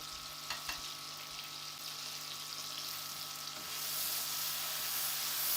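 Chicken korma fries in a pot with turmeric and korma masala. It gives a steady close sizzle that grows louder and hissier toward the end, with a couple of faint clinks of stirring early on.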